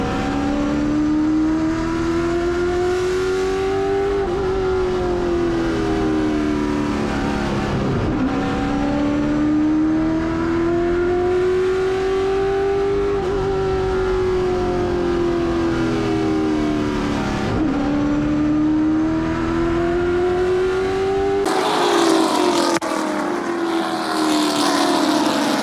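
A late-model stock race car engine howls from the cockpit under green during a CARS Tour race at New River, a steady loud drone with pitch rising and dipping through each lap, no talking.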